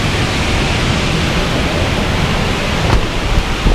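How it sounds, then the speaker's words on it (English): A steady, loud broadband rush of a large dyno cooling fan blowing continuously at a car on a dynamometer, like wind, with a faint clunk near the end. "Just turn that dyno fan on."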